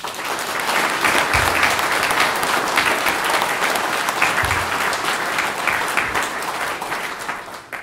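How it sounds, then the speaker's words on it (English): A crowd at a WWII memorial dedication claps in sustained applause, dense and fairly loud, holding steady for several seconds before tapering slightly. "Give them a round of applause."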